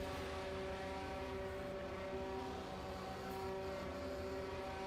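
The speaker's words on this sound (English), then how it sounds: "This thing sounds like an airplane while it's like being revved like this." Steady droning engine of a video game car held at high revs, with a sustained, airplane-like tonal hum that stays constant and fairly faint throughout, with no talking.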